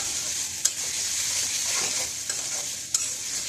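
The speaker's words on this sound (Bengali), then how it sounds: "মশলাগুলোকে আমি কষিয়ে নেব" Onions frying with ginger and garlic paste over medium heat for a taki fish curry, a continuous bright sizzle with a few sharp spoon knocks against the pan, close up and without speech.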